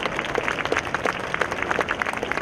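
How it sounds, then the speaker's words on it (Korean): Audience applause at a military song choir festival award ceremony in Korea, a steady patter of many hands clapping that stays even and fairly close for the whole stretch. "여러분 다시 한번 큰 박수 부탁드립니다."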